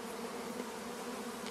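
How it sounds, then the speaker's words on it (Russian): A steady swarm of honeybees, grey robber bees among them, buzzing around a weak, dying hive in September, a dense continuous drone close by with no voices. "Вот, как видите, идет напад, прилетает серая пчела, другая."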